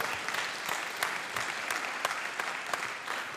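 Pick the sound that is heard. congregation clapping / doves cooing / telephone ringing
congregation clapping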